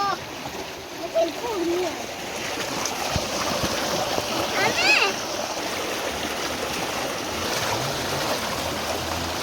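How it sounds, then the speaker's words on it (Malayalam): Continuous rushing water from a nearby waterfall fills the scene, with voices speaking over it and a brief high whistle-like call. "വെള്ളച്ചാട്ടം ഇത് നേരെ അങ്ങോട്ടാണ് പോകുന്നത്"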